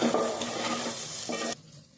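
Fried egg mixed with onions and tomatoes crackles and scrapes in a pan for egg rice, a steady close sizzle with stirring that cuts off abruptly near the end.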